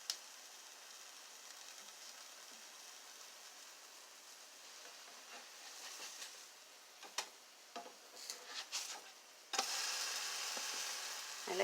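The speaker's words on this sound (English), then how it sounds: "I like my bananas to caramelize a little bit, so I'm going to let them sit there for a minute" Bananas caramelize in a pan for brunch pancakes, giving a soft, steady sizzle with scattered faint ticks and crackles that swell toward the end, no voices over it.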